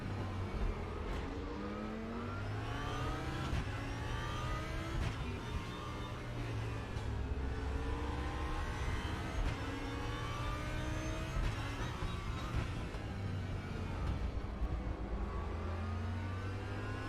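Race car engines in the RaceRoom racing game, a Corvette and a McLaren among them, roar and rev continuously with rising and falling pitch sweeps as cars accelerate and shift, loud and steady throughout with no talk.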